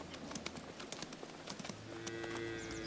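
Unshod horse hooves clip-clop in Hard West 2, a quick uneven run of hoof strikes, fairly faint, before a steady hum takes over.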